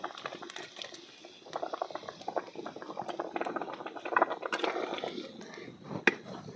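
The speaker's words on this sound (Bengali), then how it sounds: "এই যে ঝোল দিয়েছিলাম, বলক উঠেছে" Fish curry broth at a rolling boil as fried pangas fish pieces are dropped in, a faint bubbling patter with scattered pops and clicks building through the middle, soft and close.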